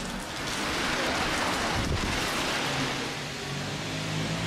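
Steady rain falls across Torquay town centre, a dense, even hiss of drops on the streets that holds without pause for several seconds.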